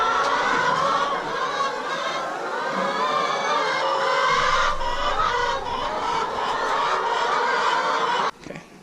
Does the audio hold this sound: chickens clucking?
yes